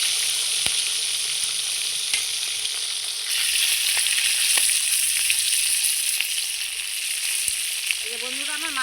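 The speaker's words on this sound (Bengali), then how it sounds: "আমার মাছ ভাজা হয়ে গেছে, মাছটা কত সুন্দর লাল লাল করে ভেজে নিয়েছি" Fish fries in a pan over a clay wood-fired stove, a bright steady sizzle with occasional sharp ticks and pops, a brief whistling tone rising near the end.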